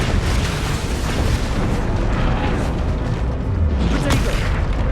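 An Expelliarmus spell cast in a Harry Potter video game, dense rumbling blasts and magical bursts filling the clip loudly and without pause, with a player's voice mixed in.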